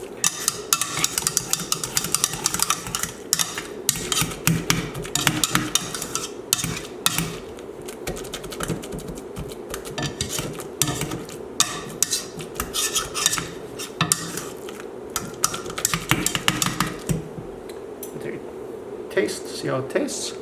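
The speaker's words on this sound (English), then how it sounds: "Continue to mash." Potatoes being mashed in a pot for a steak dinner: busy clattering and scraping of utensil against metal, continuous and fairly close, with scattered clinks throughout.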